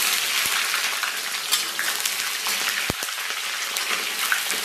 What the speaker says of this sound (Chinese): 把葱姜咱们给它简单煸炒一下